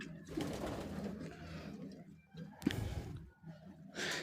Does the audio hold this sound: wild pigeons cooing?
yes